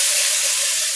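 Tomatoes tipped into hot oil with curry leaves, chillies and chopped onion for a flattened-rice pulao, giving a brief, steady hiss of sizzling steam throughout, close and fairly loud with no talking.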